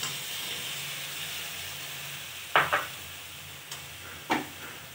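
Soybeans added to a hot pan and stirred, a steady soft sizzle with a few sharp scraping clicks of the stirring spoon against the pan.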